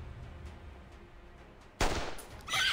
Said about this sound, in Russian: Выстрел...